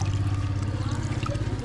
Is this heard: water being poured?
yes